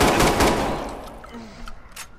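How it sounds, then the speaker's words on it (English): A short burst of rapid gunfire in Watch Dogs 2, loud and close at the start, then fading into a few scattered, quieter shots. "Shots fired, shots fired."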